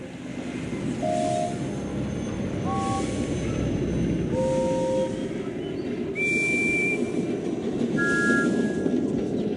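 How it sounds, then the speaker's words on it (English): Thomas the Tank Engine's steam whistle from the Thomas & Friends: Trouble on the Tracks video game, a series of short toots at rising and falling pitches over steady rumbling train noise. "That's the sound you make, isn't it, Thomas?"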